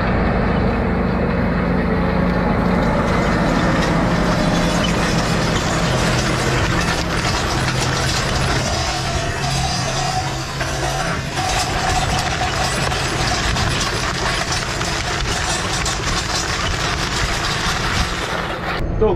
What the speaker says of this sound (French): Donc nous voici dans le tracteur de la CUMA